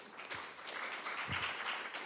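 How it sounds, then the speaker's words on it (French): Soft, distant applause from a conference audience at a Lean Construction congress, brief and steady clapping with no voices over it. "Merci beaucoup, on peut l'applaudir"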